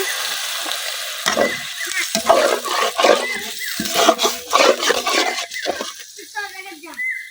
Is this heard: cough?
no